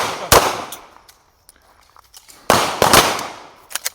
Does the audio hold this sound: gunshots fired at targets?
yes